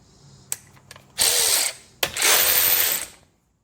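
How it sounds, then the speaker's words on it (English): A DeWalt DCF513 cordless ratchet gives two close, loud whirring runs of about half a second and one second, preceded by a few light clicks and ending in near silence. "Not only is this ratchet capable of producing 70 foot-pounds of torque, it's also capable of some pretty fine work too."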